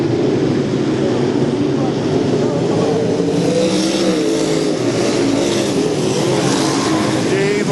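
UMP dirt race cars roar loudly around the I-55 Raceway track in a continuous engine drone, with a commentator talking over it.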